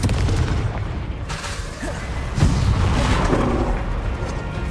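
Bombarda and Confringo explosion spells in Hogwarts Legacy go off as deep booms and blasts, layered over a continuous loud rumble of game combat noise.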